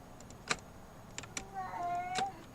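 A cat lets out one long, rising-then-falling meow at a moderate distance, preceded by several sharp clicks and taps in an otherwise quiet room.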